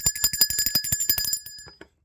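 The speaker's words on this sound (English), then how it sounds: "Let's ring the bell for that." A bicycle-style bell rings rapidly about a dozen times in quick succession, bright and close, then stops.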